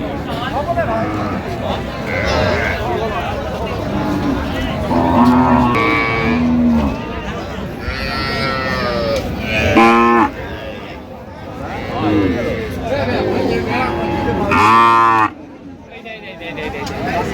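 Several loud moos ring out from a dairy cow with her calf at the Raniganj cattle market, spaced across the stretch and mixed with nearby talking and crowd babble.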